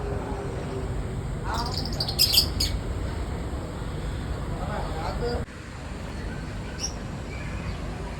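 Several birds in an aviary chirp and tweet in short bright bursts over a steady background hum, with a few squawks early on, then quieter calls.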